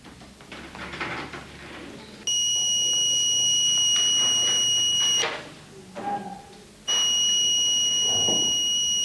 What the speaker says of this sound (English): The alarm should sound if they press this test button.